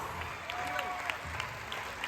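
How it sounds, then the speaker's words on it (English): Quiet applause from an audience honouring doctors at an Amway celebration, a faint continuous patter of clapping heard at a distance under a murmur of voices. "Big round of applause."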